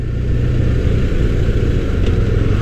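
A BMW R1250RS motorcycle's boxer engine drones steadily and loudly up close, a continuous low-pitched rumble held at moderate revs with no voices over it.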